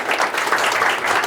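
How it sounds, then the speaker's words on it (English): An audience at a London DevOps meetup bursts into applause, a brief dense wash of clapping heard close and fairly loud. "massive round of applause for Matthias for getting everybody here"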